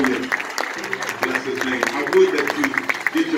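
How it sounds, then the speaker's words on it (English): A church congregation at a pastoral anniversary worship service claps hands together, a dense, fairly loud round of clapping that runs throughout with voices mixed in. "Clap your hands one more time for Jesus Christ."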